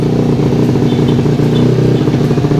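Yamaha Vega ZR motorcycle with a C2speed silent-type exhaust idles and revs steadily up close, a low throbbing engine note with light mechanical clatter and no speech.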